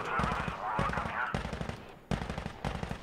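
Automatic gunfire in the video game Insurgency: Sandstorm, loud close bursts of rapid shots broken by brief pauses, with a voice briefly audible beneath the shooting.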